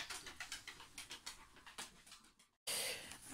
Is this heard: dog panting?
yes